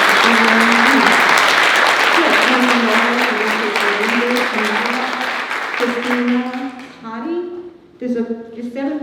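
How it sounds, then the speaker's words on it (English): An audience at a community mental health event in Warwick applauds the mental health team, broad clapping that runs loud for several seconds, then thins and fades as a voice begins speaking over the tail. "let's give a round of applause to the mental health team"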